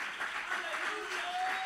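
A church congregation claps hands together in worship, a steady dense patter of many palms filling the room, with a sustained tone held faintly underneath throughout.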